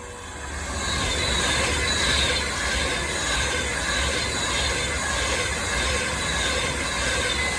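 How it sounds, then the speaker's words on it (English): An Avanti West Coast passenger train from London Euston to Glasgow Central rushing past nearby on the West Coast Main Line at Atherstone, a continuous loud roar of wheels and rails holding steady for several seconds. "the next train passed by is an Avanti West Coast service going from London Euston to"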